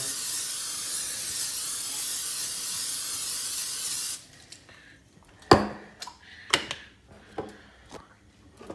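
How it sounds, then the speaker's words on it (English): A continuous hiss of cooking spray onto a pan for about four seconds, followed by sharp clicks and clatters nearby. "Now I'm going to spray the pan down."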